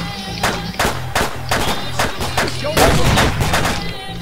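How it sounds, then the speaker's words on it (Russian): Rapid gunfire from the battle royale video game PUBG: many loud, sharp shots in quick irregular bursts, with background game noise and voices between them. "Давайте все патроны в него выстрелим"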